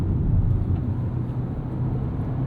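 Steady low engine drone from a 2024 Hyundai Kona N-Line while driving, a constant rumbling hum with road noise, held at an even level throughout with no voices.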